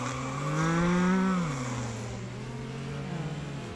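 A man mimics a car engine with his mouth while playing Need For Speed: Underground, a droning buzz whose pitch rises, then drops and settles into a steady hum.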